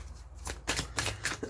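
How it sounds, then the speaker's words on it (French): Tarot cards being shuffled and drawn, giving several soft papery riffles and slaps in irregular bursts, close and fairly quiet with no talking. "On va prendre encore une carte."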